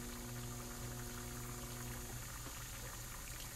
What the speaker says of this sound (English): see that bubbling up on that?